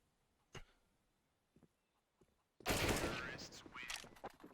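Counter-Strike gunfire as Ropz lands headshots in a competitive match: a sharp shot early, a few faint pops, then a dense loud burst of rapid shots and impacts with crowd-like noise filling the rest.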